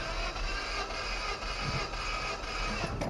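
A Geo Tracker engine is cranked on the starter for a compression test, giving a steady, rough mechanical whirring that runs throughout at close range.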